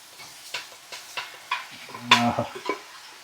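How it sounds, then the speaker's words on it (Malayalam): Beef stirred into a thick, sizzling gravy in a pan for beef chaps: a run of scraping spoon strokes against the pan every half second or so over a soft sizzle, with one louder metallic clatter, up close and without speech. "നമുക്ക് ഈ ബീഫ് ഈ സോസിൽ നന്നായിട്ട് മിക്സ് ചെയ്ത് കൊടുക്കാം"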